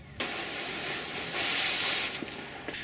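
Water sprays in a broad, steady hiss as soap is rinsed off a car in the shade. The rush swells louder through the middle before tapering off.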